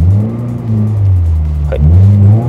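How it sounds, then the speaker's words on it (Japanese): Car idling and revving with a low steady engine rumble and rising pitch sweeps, close by, during a first attempt at a handbrake side turn with the clutch pressed and the wheel turned; no talking. "クラッチ踏んでハンドル切ってサイドだけ"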